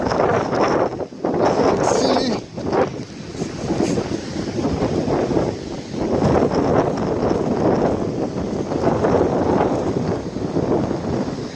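Strong wind buffets the microphone on a cold mountain summit on Mount Baden-Powell, a loud, continuous roar with gusts that swell and ease throughout.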